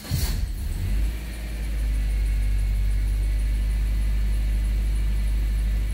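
A 2011 Subaru Outback starts with a short cranking burst, then its engine settles into a steady, deep, close idle.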